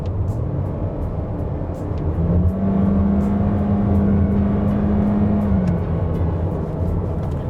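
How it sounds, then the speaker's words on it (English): A 2021 Toyota Corolla Cross with a CVT transmission held at high RPM, giving a loud, steady drone inside the car that swells and holds for several seconds before easing off slightly. "if you've heard how the transmission sounds at higher RPM, it's actually pretty loud like this."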